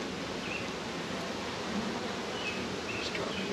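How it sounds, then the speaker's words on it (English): A dense swarm of honey bees drones steadily in and around a swarm trap, a continuous close-up buzz with occasional individual bees zipping past. "There's a metric shit ton of bees on the wall."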